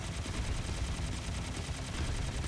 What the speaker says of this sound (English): Now I can start firing on him.